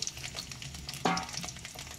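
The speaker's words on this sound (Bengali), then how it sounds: "এবার আলুগুলোকে একটু সামান্য লাল লাল করে ভেজে নেব" Potatoes for mutton curry sizzling in hot oil as they lightly brown, a short crackling burst with a brief sharp clatter midway, heard up close.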